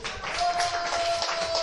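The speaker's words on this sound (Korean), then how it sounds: "박수 주세요." Applause from a children's church group after a recited Bible verse during a pastor's gospel lesson, a steady, close patter of many hands clapping for under two seconds, with a thin whistle-like tone running through it.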